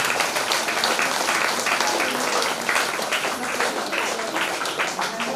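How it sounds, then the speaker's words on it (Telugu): A congregation clapping at a Christmas church service, a dense, continuous patter of many hands close by, loud and sustained throughout with no pause. "చప్పట్లు కొట్టండి"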